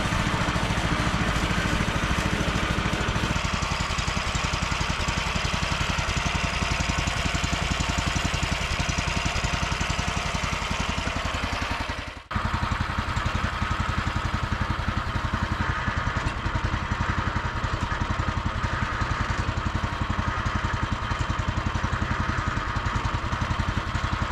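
A T-18 tractor engine runs loud and close with a steady, throbbing idle and a dense rough rumble, a brief dip near the middle before it carries on unchanged.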